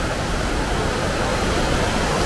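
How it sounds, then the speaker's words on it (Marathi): A stream flows beside a rainy forest trail near Kelavali waterfall in Satara, giving a steady, close hiss of rushing water with no breaks. "तर हा असा पाण्याचा प्रवाह आहे"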